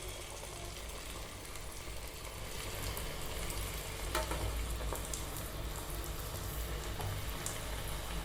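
Medu vada frying one at a time in a small amount of oil, a soft continuous sizzle and bubbling with a low hum beneath, rising slightly midway, quiet and without talk.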